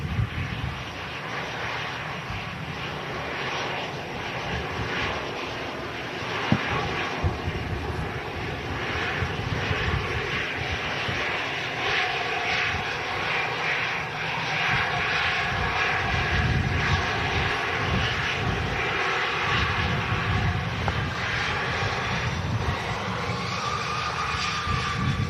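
An EasyJet airliner in from Alicante roars steadily at Manchester Airport, a broad, continuous jet rumble at moderate distance that swells slightly over time, with no talk heard.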